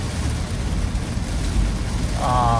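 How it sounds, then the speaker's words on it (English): Heavy rain pours steadily outside a moving car during a downpour, a dense loud wash of drumming noise throughout, with a brief tonal hum rising near the end. "It is dumping rain out right now."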